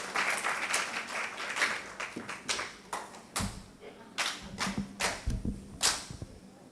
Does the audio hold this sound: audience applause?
yes